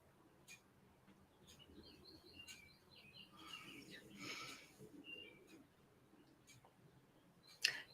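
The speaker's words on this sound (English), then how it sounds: "I can hear the birds whispering in your background. There are birds outside." Small birds chirp faintly outdoors, a few scattered high tweets and short calls over a soft ambient hiss, distant and low in level, with a sharp click near the end.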